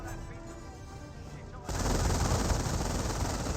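Bursts of MG42 machine gun fire from the World War II strategy game Company of Heroes erupt after a quieter stretch with in-game talk, turning into dense, continuous rattling gunfire.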